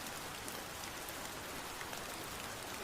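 Steady, dense rain pours down without a break, a continuous soft hiss of drops on surfaces with no voices and no other sounds.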